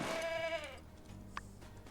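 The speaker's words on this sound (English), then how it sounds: "Unfortunately for them, I am also on a very fast goat." A goat in the video game My Time at Sandrock gives a clear bleat near the start, a wavering, nasal cry lasting under a second, followed by quieter game ambience.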